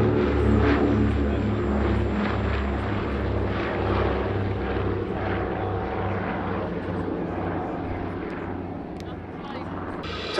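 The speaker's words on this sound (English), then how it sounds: "Consolidated PBY-5a" A Consolidated PBY-5a Catalina flying boat at the Duxford Battle of Britain airshow, its piston engines and propellers droning steadily and loud throughout, with a pulsing low rumble over the whole span and crowd noise faintly beneath.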